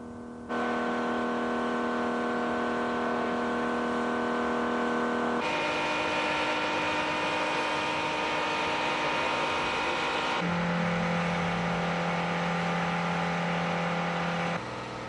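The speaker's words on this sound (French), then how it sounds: "Les bruits de cabine ont été mesurés au stade du plein régime moteur et en pleine traction." Steady, loud engine drone inside a 1990 AgroStar tractor cabin at full engine revs under full traction, a constant humming roar with tonal shifts as the pitch changes twice.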